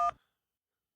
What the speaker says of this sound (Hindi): वहीं उस आदमी ने तुरंत किसी को फोन मिलाया